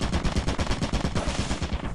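A video game turret fires rapid, evenly spaced automatic bursts, loud and close, hammering continuously with no talk over it.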